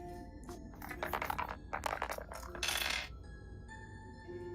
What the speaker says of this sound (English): that sounds like a Oh. lot of dice.